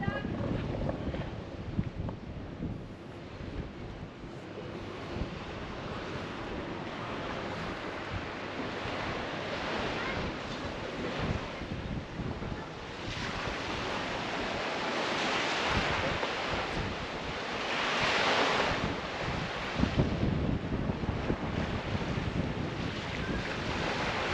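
Waves washing onto the beach at Kalyves, Crete, a steady broad surf wash with gusty wind buffeting the microphone, swelling louder toward the end.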